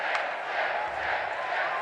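A sellout hockey crowd at Alfond Arena for Maine versus Boston University roars in a brief, steady burst of massed cheering and shouting filling the rink.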